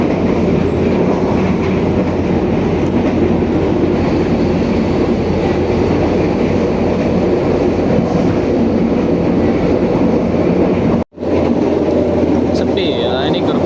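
Inside a moving BIAS passenger train carriage near Sragen on the run to Solo: a loud, steady rumble of wheels and rails fills the whole stretch, with voices in the background and one brief dropout near the end.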